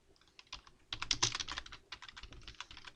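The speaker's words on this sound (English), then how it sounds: "I'm just typing again." Typing on a computer keyboard: a quick, dense flurry of close keystrokes, soft at first and then busier and louder, with an irregular patter of taps and no voices.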